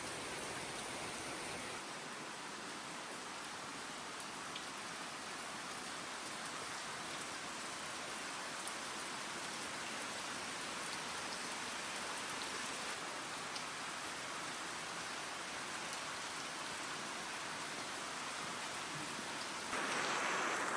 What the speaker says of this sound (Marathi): पण पावसातलं जे वातावरण आहे हे खूप सुंदर आहे.